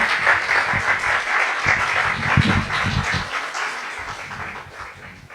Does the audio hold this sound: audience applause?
yes